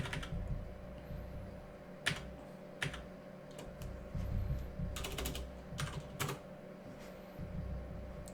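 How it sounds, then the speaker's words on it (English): Computer keyboard typing while a web page layout is edited, with a key held and pressed repeatedly: sharp, close key clicks in uneven bursts over a soft steady background hum, no talk. "I'm holding shift and pressing down on my keyboard until I see something that looks good."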